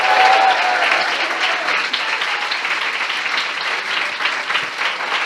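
Loud, dense applause from a church congregation filling the whole stretch, a continuous wash of many hands clapping with faint voices underneath.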